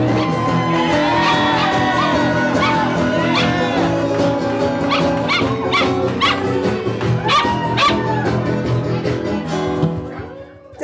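A live show audience barks like dogs together, a loud, sustained crowd of human voices imitating yips and woofs with whoops mixed in, continuous until a sudden drop near the end.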